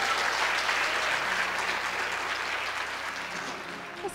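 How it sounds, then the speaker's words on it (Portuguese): Church congregation applauding at the close of a sermon, a dense, steady wash of clapping that fills the space for several seconds and stays loud throughout. "Quem pode aplaudir a Jesus?"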